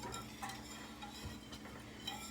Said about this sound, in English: we're still stirring away